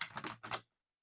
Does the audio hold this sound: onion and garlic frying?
no